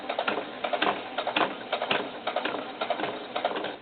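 A sewing machine stitches fabric for a doll's cowboy hat in short, uneven bursts of clattering stitches, close and clear with no talk.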